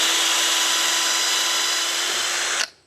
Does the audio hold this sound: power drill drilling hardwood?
yes